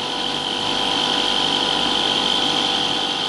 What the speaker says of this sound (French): Maintenant, inversons le sens de rotation du moteur électrique.